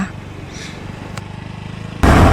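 Motorcycle riding downhill on a road on Limasawa island: a steady, close engine drone with a pulsing low rumble, then a sudden loud rush of engine and wind noise near the end, with no talking.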